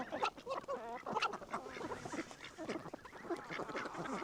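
A flock of ducks quacks busily while being fed alongside chickens, many overlapping nasal calls close by in a continuous noisy chatter.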